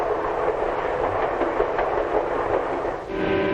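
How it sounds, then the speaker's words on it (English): A passenger train hurries through farm country, its steady rolling roar and faint clickety-clack of wheels continuous and close, heard alone without voices. "Now the train's hurrying through farm country."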